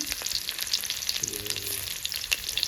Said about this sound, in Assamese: মাছ উঠোৱা তেলতে মই এতিয়া জিৰা দিছোঁ, পিঁয়াজ দিছে মোৰ ফেমিলি, পিঁয়াজ দিছোঁ।